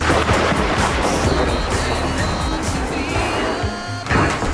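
Thunder during a lightning storm rumbles as a loud, continuous broadband roar filling the whole clip, with wind buffeting the microphone and no clear voices.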